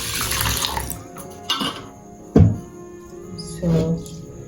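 Tap water runs and splashes into a bowl while rice is being rinsed, with bursts of pouring and a sharp slosh partway through, close and fairly loud.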